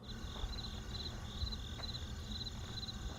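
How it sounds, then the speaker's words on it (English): Crickets chirp steadily and close by in short repeating pulses, laid over a low rumbling background with no voices. "Do you hear crickets? I hear Just crickets."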